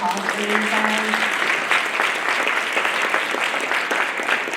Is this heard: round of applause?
yes